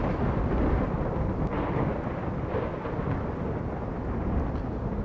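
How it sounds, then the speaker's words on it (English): A loud thunderstorm in the video game RimWorld, with steady heavy rumbling and a dense wash of rain filling the whole stretch, a few sharper crackles rising briefly above the continuous roar. "quite a loud thunderstorm"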